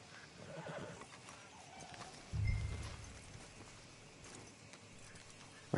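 Horses at a camp in the video game Red Dead Redemption 2 whinny and neigh, with clip-clopping hooves and a louder low snort midway, over quiet outdoor ambience without talk.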